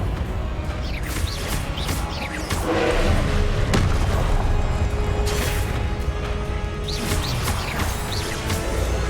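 Repeated Confringo fire spell explosions in Hogwarts Legacy, a dense run of booming crashes and whooshing blasts in a loud, sustained battle with no speech.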